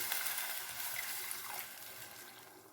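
Water pours into a cooking pan of tomato kurma masala, a short close gush and splash that settles into a softer bubbling hiss as it fades out, with no voices.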